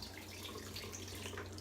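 Tap water runs into a sink while a razor is rinsed, a faint and steady splashing hiss heard alone for a moment.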